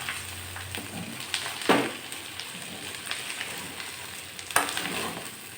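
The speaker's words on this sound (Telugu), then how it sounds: "ఇప్పుడు బాగా నీరు పోయేదాకా వేయించుకోవాలి." Ginger and garlic paste frying in a pan with oil, a steady crackling sizzle close by, broken by two sharper bursts as the paste is stirred, with no voices.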